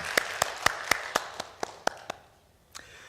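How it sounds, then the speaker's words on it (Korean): A few people in a church congregation clap sparsely during a sermon, a slow uneven run of sharp single claps, fairly close and light, thinning out and stopping near the end. "우리 말씀을 듣다가도 하나님께 감사와 찬양의 박수를 좀 드렸으면 좋겠어요."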